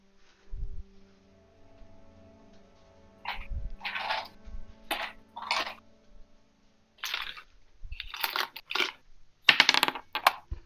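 Dice are rolled on a tabletop during a Dungeons & Dragons session, heard as several separate bursts of close, crisp rattling and clattering, with quiet pauses between throws.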